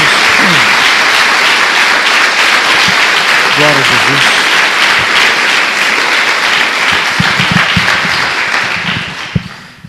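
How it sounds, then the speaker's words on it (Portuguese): Loud, continuous applause from a Portuguese-speaking church congregation, a dense wash of clapping lasting throughout, with a voice calling out over it and the sound tapering off at the close. "Dê uma salva de palmas ao nosso Deus"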